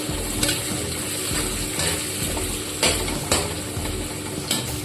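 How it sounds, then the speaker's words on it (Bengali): Chopped onions fry in a pan with cardamom, cinnamon and whole cumin, giving a steady close sizzle broken by repeated scraping stirs from a utensil, with no talk. "পেঁয়াজ কুচিটা লাল লাল করে ভেজে নেব"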